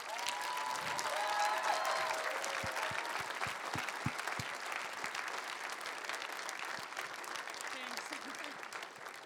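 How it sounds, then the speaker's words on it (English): Sustained applause from an award ceremony audience fills the room, dense and steady throughout, with a few cheers and voices mixed in near the start. "Give them applause"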